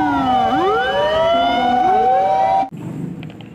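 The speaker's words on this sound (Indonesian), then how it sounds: "Ada mobil truk pemadam kebakaran." A toy fire truck siren wails loud and close in rising and falling electronic sweeps, then cuts off abruptly and leaves a faint background hum.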